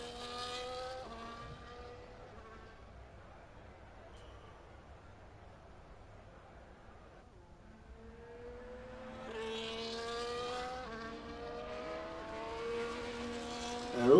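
Race cars on track in an F1 video game during the Singapore round, engine notes rising and falling through gear changes, faint at first and then louder as several cars pass close.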